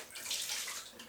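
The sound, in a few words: water filling a kettle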